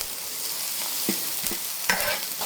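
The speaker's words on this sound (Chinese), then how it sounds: "翻炒出香味。" Scallion, ginger and onion stir-fried in a little oil in a wok give a steady close sizzle, broken by a few scraping stirs of the spatula near the end.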